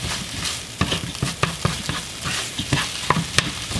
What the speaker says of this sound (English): Now I start mixing it.